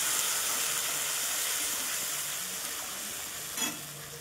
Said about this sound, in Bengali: লঙ্কা আর হলুদ, আর একটু জল দিচ্ছি, দিয়ে ভালো করে কষে নেব